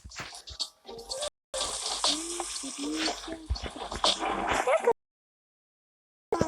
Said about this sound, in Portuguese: Banho de chuveiro também